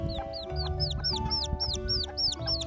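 Newly hatched Serama chicks peep over and over in quick, bright, high chirps, close by, against a faint background hum.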